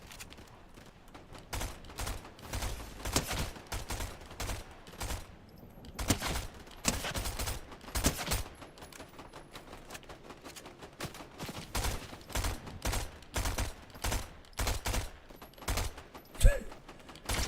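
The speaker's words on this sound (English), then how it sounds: "Trying to use a flipping SMG for long distance is a nightmare." SMG gunfire in Fortnite, repeated rapid bursts of close, loud shots separated by brief pauses, firing in an irregular stop-start rhythm throughout.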